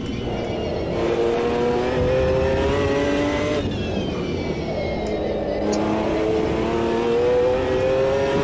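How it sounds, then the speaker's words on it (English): McLaren GT1 race car engine in the Automobilista 2 racing game at the Nordschleife, a loud continuous drone that rises and falls as the car accelerates and shifts, with no talk over it. "This McLaren, it's just amazing. Sounds so good."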